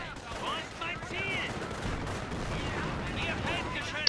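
Artillery bombardment in the Company of Heroes strategy game, a continuous dense rumble of distant explosions and gunfire under scattered voice chatter and chirping effects.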